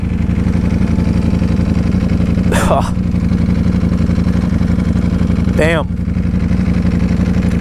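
A 2018 Ducati Panigale V4S motorcycle engine idles with a steady, loud, close rumble throughout, while someone speaks briefly over it.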